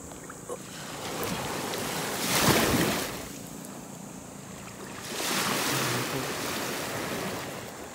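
Ocean waves on open sea during a hunting trip, two broad swells of rushing surf rising and falling amid steady wind noise, with no voices.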